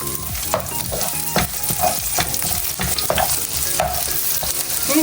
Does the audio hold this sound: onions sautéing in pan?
yes